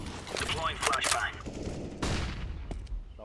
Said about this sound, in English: Grenade out. Deploying flashbang.